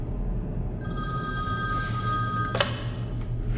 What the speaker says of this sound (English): My spooky phone's ringing.